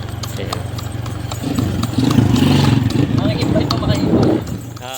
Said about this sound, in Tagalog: Ito yung mga kabayo dito.